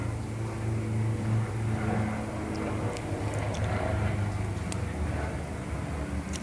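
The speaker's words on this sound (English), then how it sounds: "Helicopters flying around above." Helicopters fly overhead, a steady low rotor drone and rumble that holds loud throughout the whole stretch, with no talk over it.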